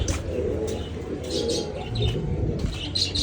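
Pigeons coo softly in a loft or on a rooftop perch, with scattered chirps and light wing flutters, fairly close and moderately quiet, no talking.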